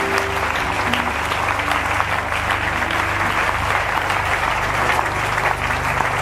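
A church congregation applauding and cheering to acclaim the Lord during a deliverance service, with dense, steady clapping that fills the room and keeps up throughout, loud and close.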